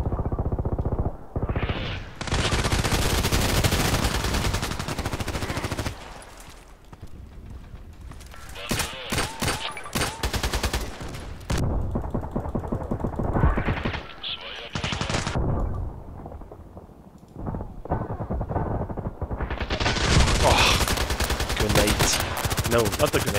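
Rapid bursts of automatic gunfire and single shots crackle through a Contract Wars online shooter match, loud and close, with someone talking over several stretches between volleys.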